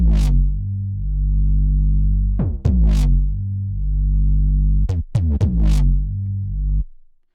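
A processed synth bass layer with compression and the high end cut plays sustained deep notes, broken by a few short clicky retriggers and gaps, loud and close with no voices, ending in a quick fade.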